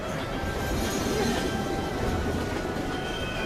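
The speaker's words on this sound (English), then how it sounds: "No i oczywiście musi nadjeżdżać pociąg, super." A train pulls in during a tense escape in the video game Heavy Rain, a loud, steady rumble of rolling wagons and clacking wheels with faint squeal, close and continuous, with barely any voice over it.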